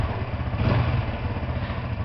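A Honda Biz 125 motorcycle engine runs steadily at close range with a low, even mechanical chug and light clatter, and no voices over it.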